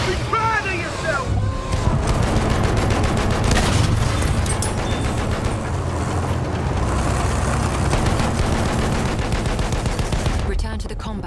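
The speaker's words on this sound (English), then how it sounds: "Wait for the enemy artillery barrage to stop the firing." Loud, continuous battle noise from an enemy artillery barrage and gunfire in Battlefield 1's Sinai Desert, with rattling shots and heavy booms layered over engine rumble and voices throughout.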